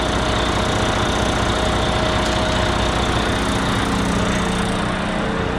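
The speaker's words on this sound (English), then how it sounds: "So it's an MTU branded engine" An MTU-branded Detroit DD15 diesel engine in a concrete mixer truck runs steadily, a loud, constant low rumble with a mechanical drone and no speech.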